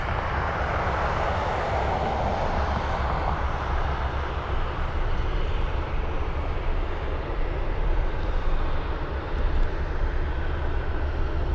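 A Lockheed L-100 Hercules taxiing at Anchorage airport gives off a steady, distant broadband engine rumble and hiss that holds an even level throughout, with no voices.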